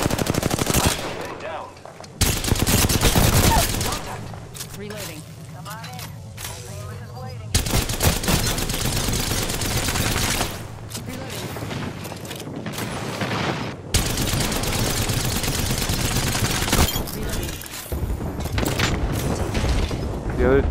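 Bursts of rapid automatic gunfire and heavy shots in a video game, several loud volleys broken by short pauses and mechanical clatter, with a player talking between them.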